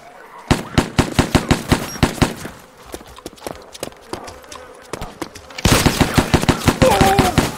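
Rapid gunfire in the DayZ survival game, with a fast string of sharp, loud shots in steady bursts, a short lull, then a denser, louder volley near the end.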